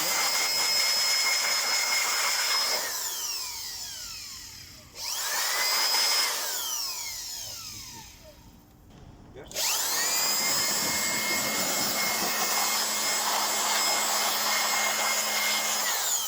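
Compressed air blasts onto the fan of a dusty server left uncleaned for five years, a loud rushing hiss broken by two brief pauses while the spun-up fan whirs and shifts pitch.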